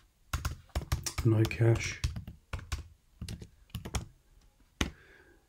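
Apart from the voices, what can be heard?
typing a command on a computer keyboard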